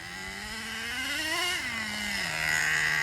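HPI Racing Super Nitro RS4 nitro RC car engine buzzing steadily nearby during break-in, its pitch climbing, peaking mid-run, then dropping back to a lower whine.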